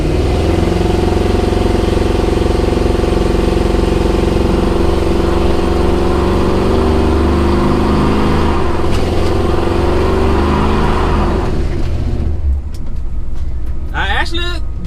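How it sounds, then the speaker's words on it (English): A truck engine with a rebuilt Holley carburetor roars loudly and steadily through a burnout, a dense sustained rumble that eases off near the end as a voice speaks briefly. "I actually did a burnout that time, guys."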